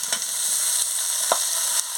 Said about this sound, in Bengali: এবার আমি পুঁই ডাঁটা আর শাকগুলো দিয়ে দিচ্ছি।